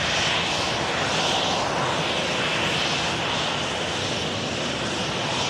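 A Ryanair airliner takes off, its engines a loud, steady roar that carries on and swells slightly, heard from outside at an airport with no voices.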